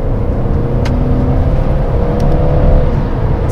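Mercedes GLB 220d diesel engine pulling steadily under acceleration in comfort mode, a loud continuous low drone with a faint rising tone, heard from inside the car with no talking.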